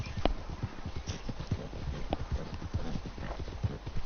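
Horse hooves clip-clop steadily in the video game Red Dead Redemption 2, a continuous walking rhythm of close, dull thuds with faint background ambience.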